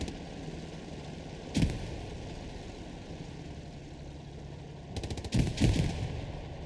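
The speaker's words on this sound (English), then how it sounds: "minced by that machine gun of the Panther" The hull machine gun of a Panther tank fires in the game Hell Let Loose over a steady engine drone, with a short burst and then a rapid longer stutter of shots a little way off.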